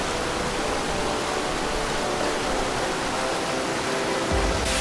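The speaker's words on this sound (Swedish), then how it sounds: "bara ljudet av fors" Rapids near a waterfall in wild Icelandic nature give a steady, dense broadband roar of rushing water, constant and fairly loud with no voices.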